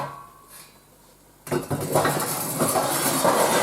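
A pot of pork trotters is hauled out in a village kitchen. A faint clink comes first, then a sudden loud metallic scrape and clatter of the pot and lid that rattles on steadily.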